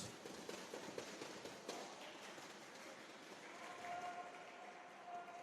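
Spectators at a school badminton match give scattered, light applause, a thin patter of claps that carries on at a moderate distance, with a few louder single claps near the start.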